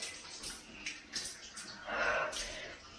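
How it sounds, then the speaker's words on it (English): Water splashes and patters from a shower turned to cold, coming in uneven bursts with a louder gush near the end, close and moderately quiet. "And then the cold water will start running."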